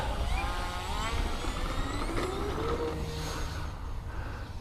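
An E-Flite Cirrus SR22T 1.5 meter RC airplane motor on its maiden flight day, a steady high electric whine with rising tones running loud and close throughout, with a faint gliding pitch sweep partway through.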